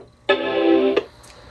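A Mac Plus modified to play a Quadra-style startup chime sounds one rich, sustained chord for about two-thirds of a second, close and clear, then fades with a faint click afterward.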